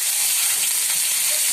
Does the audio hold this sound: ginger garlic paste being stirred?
yes